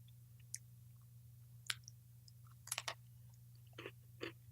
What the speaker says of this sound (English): I will now eat a second Mega Stuff cookie.